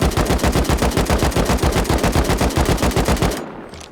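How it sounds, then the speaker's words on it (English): Rapid automatic gunfire from a video game weapon shooting at the roof of a base, a steady loud burst of evenly spaced shots that stops abruptly near the end, leaving a short fading tail. "Say I want to kind of shoot at the roof a little bit."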